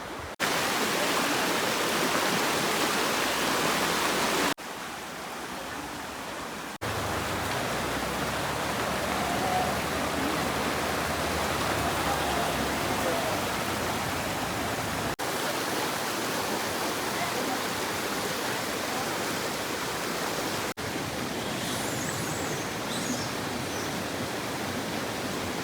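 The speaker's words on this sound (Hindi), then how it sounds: "तो ये मल्टीपल लोकेशन से आता है वाटर का फ़्लो" A monsoon-swollen stream rushes continuously in Sanjay Gandhi National Park, Mumbai, making a loud, dense roar of flowing water. The sound breaks off in several abrupt cuts between stretches of steady flow.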